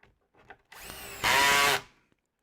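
Power drill driving screws into a wooden corner joint, a short whirring burst that rises to a louder strained spin for about half a second before stopping, close by, with faint bumps before and after.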